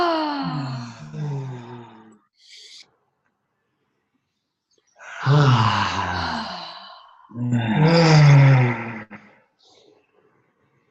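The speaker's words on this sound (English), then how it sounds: "let's do 3 deep breaths and 1 Om to close" A group takes deep breaths together, long airy inhales and exhales, then joins in sustained droning Om chants, two long swelling tones with silent gaps between them.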